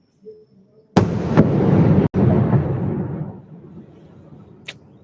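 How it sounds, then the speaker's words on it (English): A single loud firework blast goes off outside and rolls away in a long rumbling decay, followed by a faint distant pop a few seconds later, with no talking. "firework."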